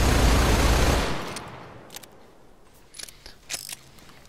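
Rapid-fire revolver gunshots from GTA 5 Online: a loud dense burst of fire at the start, dropping off into a few sharp scattered clicks and shots afterward.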